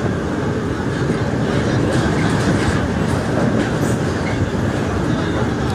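A train rolls over rail tracks near the Godavari river at Rajahmundry, a loud, close, continuous rumble with steady wheel clatter throughout.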